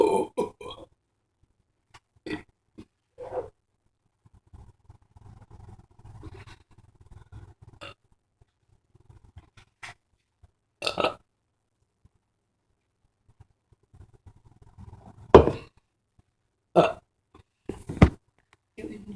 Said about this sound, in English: You enjoy me burping?